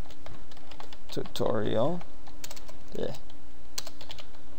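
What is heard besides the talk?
typing a folder name on a computer keyboard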